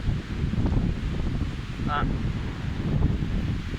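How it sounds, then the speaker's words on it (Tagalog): Strong wind from Typhoon Fabian roars and buffets steadily across the whole stretch, a dense low rumble with a faint brief chirp midway. "pati pusuga sa hangin."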